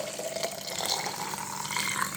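Hot water runs steadily from a tap or kettle into a container while Bordeaux mixture of copper sulfate and slaked lime is prepared for strawberries; a continuous, fairly close splashing pour with no talk.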